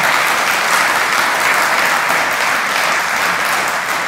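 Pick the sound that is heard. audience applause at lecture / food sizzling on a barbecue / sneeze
audience applause at lecture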